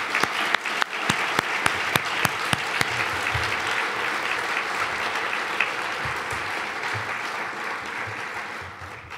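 A full audience at an evening awards ceremony for outstanding mechanical engineers breaks into sustained applause, dense and steady from start to finish, with a few sharp individual claps standing out early on.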